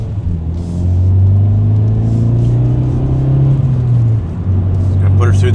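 A Hyundai Veloster N fitted with an MBRP 3-inch dual rear exit cat-back exhaust runs steadily with a deep, loud droning tone that swells briefly then settles.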